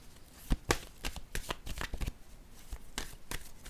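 Cards handled and set down during a tabletop card game, a rapid series of close, crisp slaps and papery flicks, fairly loud and uneven in rhythm, with no talking.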